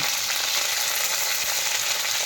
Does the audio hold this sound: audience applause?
no